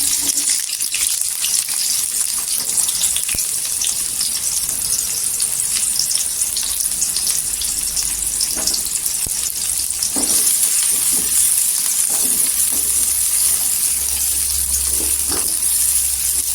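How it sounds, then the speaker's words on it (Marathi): Curry leaves and onion fry in hot oil in a kadhai while French-bean sabzi is being prepared, giving a steady loud sizzle with occasional stirring scrapes and taps throughout. "इथे तेल टाकलेलं आहे इथे आपण करीपत्ता टाकायचा करीपत्ता टाकल्यानंतर कांदा टाकायचा"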